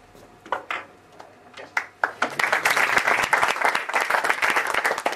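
Scattered single claps grow into a full, dense round of applause from an audience at a Spanish-language gathering, continuing loud and steady to the end.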